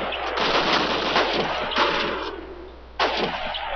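Machine gun fire in Call of Duty's Stalingrad counterattack mission, a dense continuous rattle of automatic bursts that dips briefly around the middle and then resumes loudly, with no speech.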